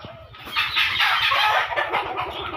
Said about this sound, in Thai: นี่แม่ไก่กำลังฟักอยู่นะครับ